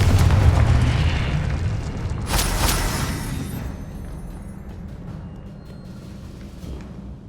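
A Confringo blasting spell goes off in Hogwarts Legacy as one big booming explosion, strongest at the start with a second burst about two seconds in, then a long rumbling decay fading away.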